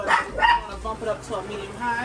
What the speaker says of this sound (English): If you hear that little barking around, that's my little dog.